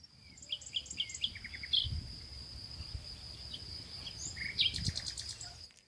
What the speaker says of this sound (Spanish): La naturaleza, aves, ¿sí?